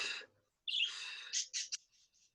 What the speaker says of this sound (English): Birds are going mad behind me now.